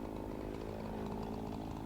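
A chainsaw cutting a large white oak tree runs steadily at high revs, a loud continuous buzzing drone with no pause.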